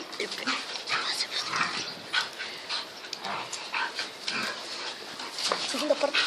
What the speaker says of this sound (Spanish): Esto ha sido una pelea de perros.